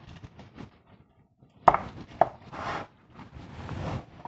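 Prawn heads are crushed in a pan for a risotto with porcini, making soft scraping and sizzling with two sharp knocks of a utensil against the pan, close and fairly quiet.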